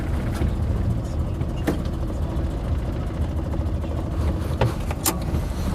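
An Invacar microcar with registration TWC 725K idles and pulls away, giving a steady, moderately loud engine drone with a few sharp clicks and knocks along the way and no talk.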